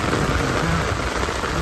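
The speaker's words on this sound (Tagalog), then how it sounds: "It's raining." Steady, dense rainfall near a highland resort, a broad continuous hiss of drops pattering on surfaces with no pauses, fairly loud and close throughout the short stretch.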